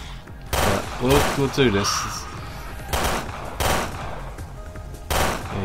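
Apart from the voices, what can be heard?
gunshots in the video game Resident Evil Revelations 2 raid mode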